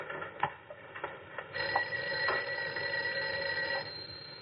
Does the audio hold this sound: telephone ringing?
yes